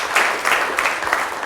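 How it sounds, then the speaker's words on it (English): Brief, light audience clapping at a Melbourne CocoaHeads developer meetup, a short scattered patter of hands lasting about a second and a half. "So maybe a quick little clap to the sponsors, the ones that are here."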